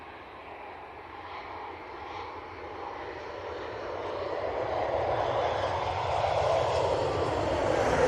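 An airliner touching down at Manchester Airport, its engine roar building steadily louder and broader over several seconds as it nears and lands.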